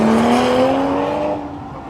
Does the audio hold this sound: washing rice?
no